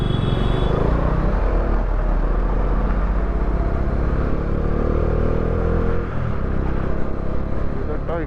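Busy road traffic in Shillong, thick with motorbikes and scooters, makes a loud, steady wash of engine rumble and whir throughout, with no let-up.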